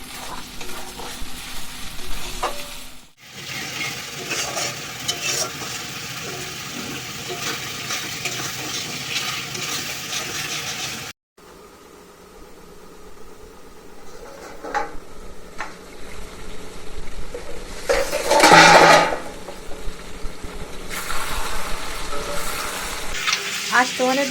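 Meat stirred and fried in a pan during village home cooking: loud, close sizzling with repeated scraping stirs, broken by a couple of abrupt cuts and one louder hissing burst midway.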